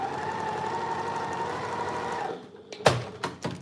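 A sewing machine stitches quilt blocks for an embroidered flower quilt, giving a close, steady whirring hum for a couple of seconds before stopping, followed by a few sharp clicks and knocks.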